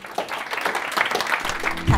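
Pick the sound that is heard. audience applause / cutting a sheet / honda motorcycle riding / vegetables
audience applause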